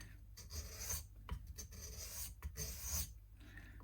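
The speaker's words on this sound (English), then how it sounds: "You have to clean them with a bit of light sandpaper." Repeated rasping strokes of light sandpaper cleaning a dirty sanding belt, uneven bursts of scratchy friction back and forth, close and fairly loud.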